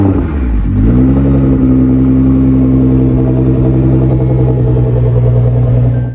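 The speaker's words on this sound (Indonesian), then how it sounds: "kita nyalain aja mesinnya" A Nissan Patrol seventh-generation engine cranks, catches and settles into a loud, close, steady idle with a rising rev, heard alone without talk.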